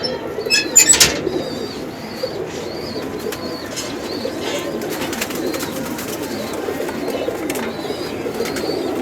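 Pigeons in a high-flying pigeon loft coo steadily and softly throughout, with a burst of loud wing flapping near the start and scattered fluttering and shuffling afterward.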